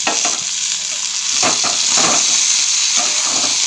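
Thin slices of raw potato are dropped into hot oil and fry with a loud, steady hissing sizzle, punctuated by a few brief crackling bursts as the pieces settle, close-up and without talk.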